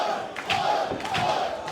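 A wrestling arena crowd chants for the tag team Reno Scum, a rhythmic massed roar of voices rising in two swelling pulses, moderately distant and reverberant.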